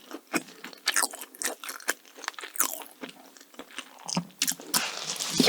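Crispy pastry pizza pie, a pepperoni and apple-cinnamon rose pie, bitten and chewed close to the mic, with repeated crackly crunches and flaky bites in an irregular rhythm, no talking.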